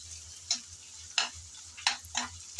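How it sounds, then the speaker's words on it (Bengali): Cauliflower stalks and prawns stir-fried in a pan, with a soft steady sizzle and several distinct scraping stirs of the spatula spaced about every half second, close and moderately loud. "কিছুক্ষণ নেড়ে চেড়ে আমি বেজে নিলাম"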